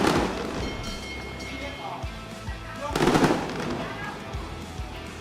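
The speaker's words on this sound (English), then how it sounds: "we got a big fireworks show going now" A fireworks display bursts in scattered booms and crackles, with a strong burst near the middle, heard at a Muay Thai fight event over crowd noise and a commentator's voice.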